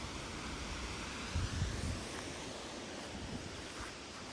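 Steady broadband wind rushing across the microphone, with a brief stronger gust buffeting low in the middle; no voices.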